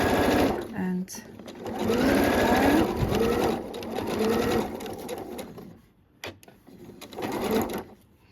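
A domestic sewing machine runs a reverse stitch along the shoulder seam of a lined waistcoat, giving a steady, close mechanical whirr that pauses briefly and restarts while a voice talks over it.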